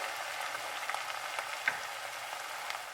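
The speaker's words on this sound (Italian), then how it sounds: "vado a sfumare con un po' di vino bianco. E faccio evaporare." Onions sizzle steadily in a pan as white wine is poured in for an onion soup, a soft continuous hiss with faint crackles and no talking.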